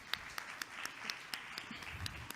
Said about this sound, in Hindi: जोरदार तालियां इस उम्दा परफॉर्मेंस के लिए